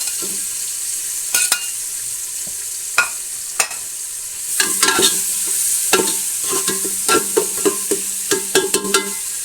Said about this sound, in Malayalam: ഉള്ളിയൊക്കെ ഏകദേശം വാടിയിട്ടുണ്ട് ഇനി അതിലേക്ക് തക്കാളി പച്ചമുളക്